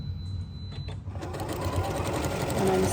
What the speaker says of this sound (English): And I'm sewing right down that last edge.